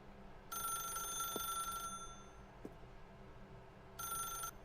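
An old-style telephone bell in The Stanley Parable rings in two bursts with a gap between them, a bright metallic trill over a quiet background with a couple of soft knocks.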